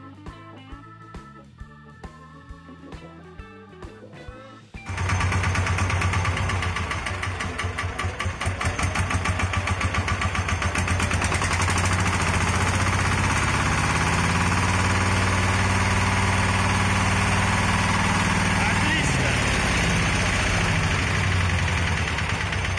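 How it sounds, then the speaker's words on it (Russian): A walk-behind tractor engine fitted with a generator starts with uneven low chugs, then roars steadily at maximum revs, a loud, continuous mechanical drone with rapid firing pulses. "Установив генератор на мотоблок и запустив двигатель на максимальных оборотах"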